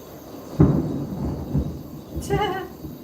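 Thunder following a lightning strike, a sudden low rumble that swells and fades over a few seconds, with fainter broadband noise trailing after.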